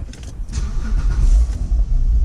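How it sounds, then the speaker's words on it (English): A Porsche 987 Boxster engine cranks and fires close by, a short starter whirr followed by the flat-six catching and settling into a loud, rumbling idle. "So what we do is we start the car"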